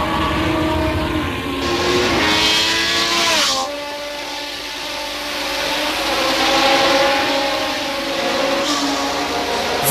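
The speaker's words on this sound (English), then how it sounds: "compatriot Patrick Tambay went dirt tracking in his McLaren" A McLaren Formula One car at a Grand Prix, its engine roaring loud and steady as it passes, with the pitch sweeping as the car goes by and another engine note rising near the end.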